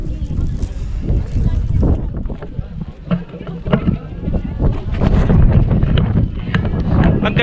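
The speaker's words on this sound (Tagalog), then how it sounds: "Ang ganda rito kasi ang lakas ng hangin at saka ang lamig" Strong cold mountain wind in Sagada, Mountain Province, roars and buffets the microphone in heavy gusts throughout, with people talking beneath it.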